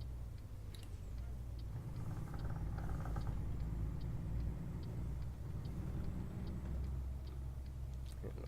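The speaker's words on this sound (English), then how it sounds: "Oh, I love the noise this truck makes." A truck engine in the driving game American Truck Simulator holds a steady, low, droning hum throughout, with faint regular ticking over it.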